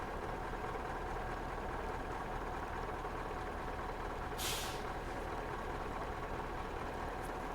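A sharp hiss of a truck air brake bursts out once over the steady low rumble of an idling engine.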